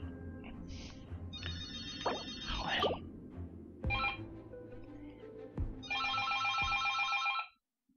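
A telephone rings with several bursts of electronic trilling tones, interrupted by clicks and background game sounds, then cuts off abruptly near the end.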